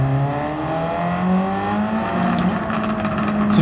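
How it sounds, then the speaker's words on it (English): A Ford Focus RS engine in the Gran Turismo 7 racing game, a steady, loud engine drone with rising and falling harmonic tones as it revs, heard without talking. "The Ford Focus RS, after my little tune, has actually become one of my favorite road cars in the entire game."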